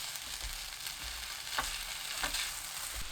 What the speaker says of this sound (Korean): 계란 넣고 1분 더 볶아주세요.